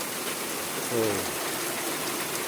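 Steady rain falls during a night outing catching fish and frogs in the fields, heard from under a shelter as a continuous even hiss, with a brief low tonal murmur partway through.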